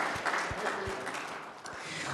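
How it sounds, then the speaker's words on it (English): An audience at a community safe streets meeting claps in scattered fashion, fairly soft and thin with a few louder individual claps, fading slightly midway before picking back up. "Let's give them a round of applause."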